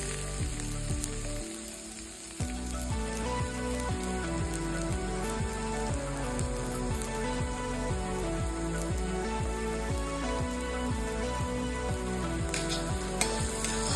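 Grated coconut being stirred and fried in a pan, with steady close sizzling and crackling under a continuous musical backing, broken by a brief lull early on.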